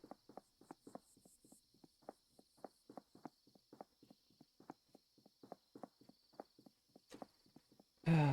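Rhythmic insect chirping fills a house in the video game Slender Threads, a steady series of short pulses repeating about twice a second, followed at the end by a sudden loud burst.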